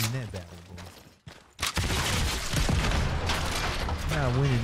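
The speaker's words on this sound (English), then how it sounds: "that's it with my grenade launcher" Grenade launcher blasts and gunfire in an Unreal Engine 5 video game, loud and continuous, a dense roar of explosions and shots after a brief lull, with voices talking over the start and the end.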